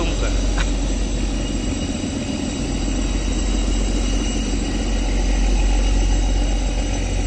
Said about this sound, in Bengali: ইঞ্জিনের শব্দ এরকম